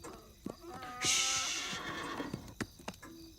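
A horse whinnies loudly and close, a long shrill neigh trailing off, with a few soft thumps and shuffles around it.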